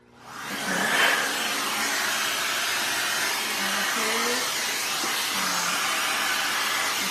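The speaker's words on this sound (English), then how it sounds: "I need to use the vacuum to clean it." A vacuum cleaner whirs up and runs steadily, a loud constant whooshing drone, with a faint voice underneath.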